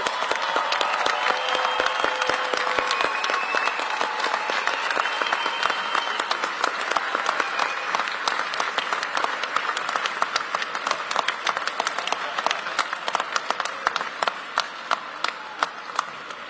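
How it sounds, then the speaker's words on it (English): Sustained applause from an audience at a military Welcome Home ceremony for returned soldiers of the 44th Infantry Brigade Combat Team, dense and steady throughout with individual claps standing out near the end. "please join me in applauding our returned soldiers"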